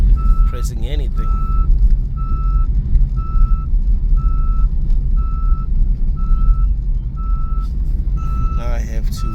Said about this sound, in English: Still warning me about the seatbelt.